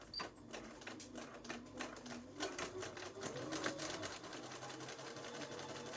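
A sewing machine runs steadily, stitching the collar of a duster coat with rapid, even needle chatter that stays close and continuous, with no talk over it.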